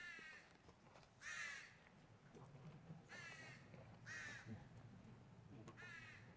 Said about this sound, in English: Got some loud crows above us.